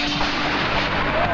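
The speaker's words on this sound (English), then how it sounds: "the cannon firing prematurely" A cannon goes off prematurely during ramming, touched off by a hot ember left in the barrel; a single heavy, booming blast fills the whole brief moment, close and loud.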